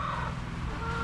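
Chickens cluck from a backyard egg-laying flock, a low steady burble of fowl calls close by against an outdoor background, continuous through the short moment with no talk.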